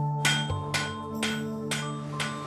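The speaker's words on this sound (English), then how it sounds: "The forge uses water power technology to drive heavy hammers and pump air into its fires." Heavy water-powered forge hammers in an Edwardian mass-production forge strike in a steady slow rhythm, five loud ringing metallic blows about half a second apart over a continuous low mechanical drone.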